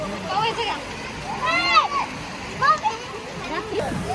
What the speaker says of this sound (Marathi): पाण्याचा आवाज खुळखुळ एकदम मस्त वाटतंय